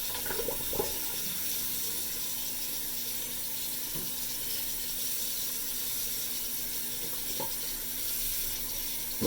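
Tobacco leaves are rinsed under a running tap, a steady hissing stream of water lasting throughout with a few faint knocks and handling sounds at close range.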